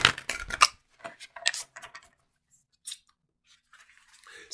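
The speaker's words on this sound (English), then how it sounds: "let me shuffle for the Sacred Forest Oracle card" Sacred Forest Oracle cards being shuffled by hand: close, crisp riffling and slapping bursts at the start, then sparser soft card flicks and taps separated by quiet gaps.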